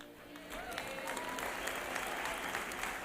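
A church congregation applauds for Wanja Asali, a steady wash of fairly distant clapping with faint voices underneath.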